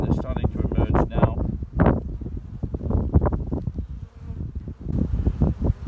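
Honey bees buzz busily around a small hive being boosted with the newspaper method. The buzzing is close and dense, with wind rumbling on the microphone and swelling in uneven bursts.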